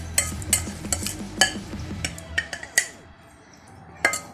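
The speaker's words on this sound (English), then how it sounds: "Stir it through all that lovely juice." Trimmed octopus chunks stirred through pan juices, a run of sharp utensil-on-pan clinks and scrapes in an uneven rhythm, close and fairly loud, with quieter scraping between strikes and a final clink after a brief pause.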